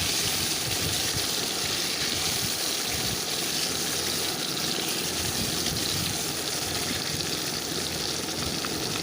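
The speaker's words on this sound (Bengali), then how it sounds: "এখন আমি এর মধ্যে দিয়ে দিচ্ছি নুন হলুদ লঙ্কার গুঁড়ো মাখিয়ে রাখা ডিম সিদ্ধগুলোকে। ডিমগুলো আমি হালকা করে ভেজে নেবো" Hard-boiled eggs rubbed with salt, turmeric and chili powder fry lightly in hot oil, giving a steady, even sizzle and crackle throughout with no voices.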